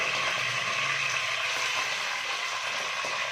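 Continuous sizzling and crackling of onion paste frying in hot oil, a dense steady hiss heard up close without any voices.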